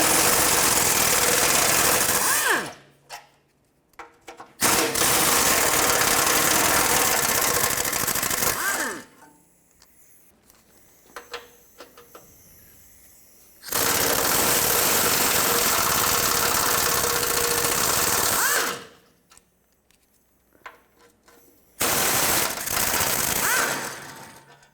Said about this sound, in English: I'm going to take off the 4 side bolts first, and then the ones down at the bottom.